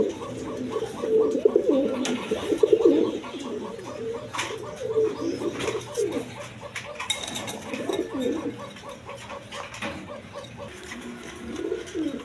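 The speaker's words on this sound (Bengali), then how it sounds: "একটু ডাকায় দেখাই, দেখেন নটটা কীরকম ডাকাটাকে।" A male Gobindo koka pigeon coos in a repeated, low, throaty rhythm close by, with faint talking in the background at times.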